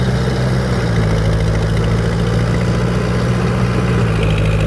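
Old Lao rice-threshing truck with an engine idling, a loud steady close-up rumble with a low throbbing drone and constant vibration throughout, no speech over it.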